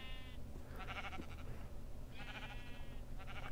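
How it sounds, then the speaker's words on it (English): Sheep in the video game Minecraft bleating, several short, wavering calls repeating in a rough rhythm over a quiet background hum, clear and close. "Freaking sheep stuck in the land."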